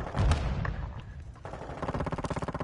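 Gunfire in Call of Duty Modern Warfare 2: a heavy thump and scattered shots, then a steady fast automatic burst of evenly spaced rounds rattling close and loud to the end, with no voices.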